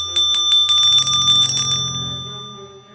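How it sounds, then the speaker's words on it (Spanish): A small bell rings in a rapid, bright tinkling burst that lingers and slowly decays, close by and clear with no voices over it. "La campanilla volvió a sonar, pero esta vez se oía más cerca de ellos."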